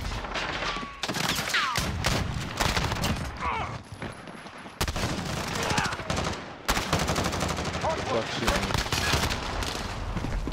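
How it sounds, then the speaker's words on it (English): Dense Call of Duty gunfire with rapid automatic bursts and scattered shots, loud and continuous across a chaotic multiplayer match, broken by brief lulls, with a player's voice talking over parts of it. "I shot that guy at least 3-4 times"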